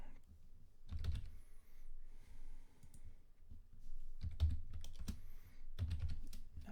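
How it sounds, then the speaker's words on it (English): Typing on a computer keyboard comes in short bursts of clicking keystrokes separated by pauses, close and fairly quiet, with no talking. "Having trouble typing."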